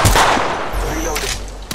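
Gunfire from a first-person shooter video game: a sharp, loud burst of shots opens the clip, followed by a rumbling stretch with scattered impacts and another crack near the end.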